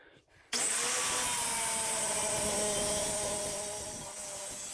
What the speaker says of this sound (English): I'm just cutting this off with the grinder.